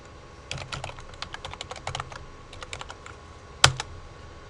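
Typing on a computer keyboard while writing Python code comes in quick close bursts of key clicks with short pauses between them, ending in one louder keystroke.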